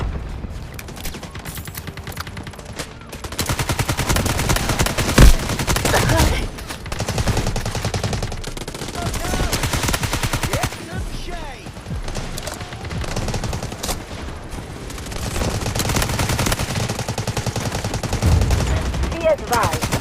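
Dense gunfire and machine-gun bursts mixed with heavy booming artillery barrage from the Delta Force Mobile video game, loud and continuous, with occasional voice lines layered in.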